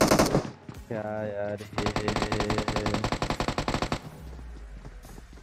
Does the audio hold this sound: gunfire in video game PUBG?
yes